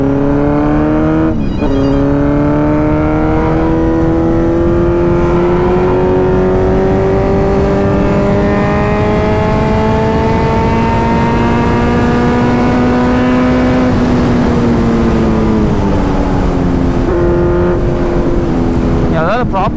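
A Kawasaki Z900 inline-four motorcycle engine drones loudly while being ridden through traffic. Its smooth, steady tone climbs slowly as the revs build, then dips and settles near the end.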